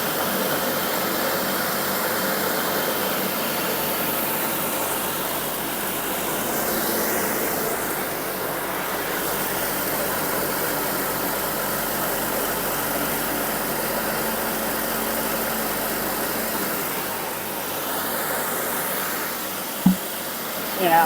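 A home-built, engine-driven machine that mills rice and grinds bran, with a sieve for straw bits and two-layer rice sifting, runs with a loud, steady whirring drone throughout, ending in a short sharp knock near the end.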